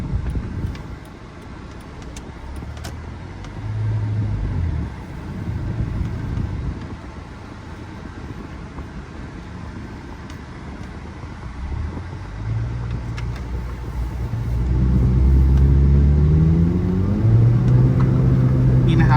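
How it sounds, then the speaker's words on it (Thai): A 2003 Honda City 1.5 automatic on a test drive, a low steady engine and road rumble that swells louder as the car accelerates near the end, with a voice speaking briefly over it. "เครื่องยังดีอยู่เลย อัตราเร่งดีนะครับ ช่วงล่างแน่น นี่ร้อยยี่สิบนะครับ"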